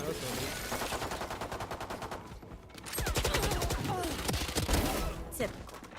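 Rapid bursts of automatic gunfire crackle in a Valorant match, with dense rattling volleys that pause briefly and then resume louder, under faint game sounds.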